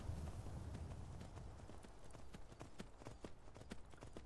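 Horse hooves clip-clop in a steady, repeating rhythm while riding in the Skyrim VR video game, moderately loud and close over a low background rumble, with no talking.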